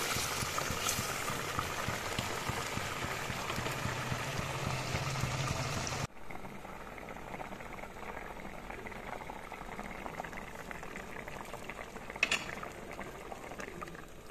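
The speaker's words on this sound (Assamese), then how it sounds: "এইখিনি মই 5 মিনিট সময় ভালদৰে উতলিবলৈ দিম।" A pot of fish curry boils steadily for the whole stretch, with a dense bubbling and simmering texture. Partway through it turns quieter and duller, then a brief clink sounds near the end. Nobody speaks.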